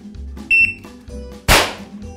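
A single sharp gunshot from a fast-draw pistol cracks loudly and close, preceded by a brief electronic timer beep over background hum.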